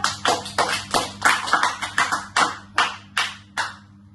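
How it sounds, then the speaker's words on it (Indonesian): About a dozen sharp claps from a classroom in a loose, slowing rhythm, loud and close, fading out at the end over a low steady hum. "Tepuk tangan untuk temannya."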